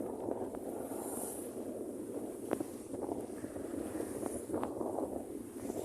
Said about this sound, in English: Now I'm sailing on a beam reach, just tied off,